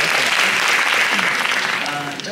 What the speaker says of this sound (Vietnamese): Chúng ta vỗ tay cho đạo diễn Trấn Thành ạ.